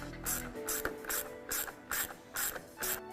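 A hand ratchet tightens a bolt on a grille LED light mount, making a close, quiet series of about seven evenly spaced clicking bursts with brief pauses between strokes.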